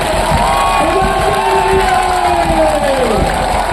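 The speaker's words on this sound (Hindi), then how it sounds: "सब लोग दोनों हाथ खड़े कर दो और एक बार जोरदार ताली अपने लिए बजाइए, जोरदार ताली।" A large crowd at a political rally in India cheers and shouts, a dense, steady roar close around, with whoops rising over it and no distinct clapping standing out.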